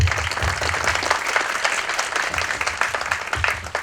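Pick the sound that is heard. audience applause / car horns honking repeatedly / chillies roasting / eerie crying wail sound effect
audience applause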